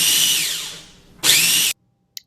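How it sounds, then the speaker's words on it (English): A mini food processor whizzes pine nuts and garlic for a kale basil pesto, giving two short bursts of high, whirring motor noise. The first burst runs long and fades down; the second is brief and ends abruptly, followed by silence. "place it in a mini food processor, and just give it a quick whiz"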